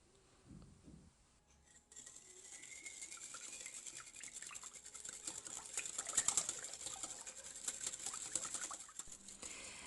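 A whisk beats vegetable oil, melted butter, sugar and vanilla together in a bowl for Moroccan family brioche, making a quiet, rapid, scratchy stirring rhythm up close that grows slightly louder, with no speech.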